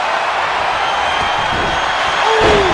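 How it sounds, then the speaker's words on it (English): A capacity arena crowd in the wrestling video game WWE 2K25 gives off a continuous, loud roar of cheering that swells slightly near the end, with a brief swooping tone over it. "With every move you make, you hear this capacity crowd following you on that journey."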